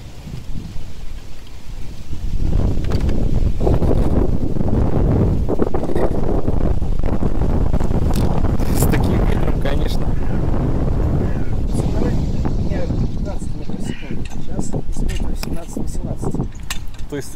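Strong wind buffets the microphone outdoors at a crossbow hunting range, a loud continuous roar with gusting swells that runs through the whole stretch.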